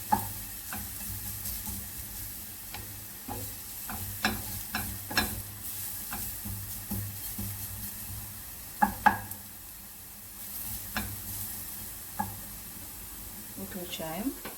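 Carrots softening in a frying pan, a low steady sizzle with scattered clicks and scrapes of stirring, close but fairly quiet throughout.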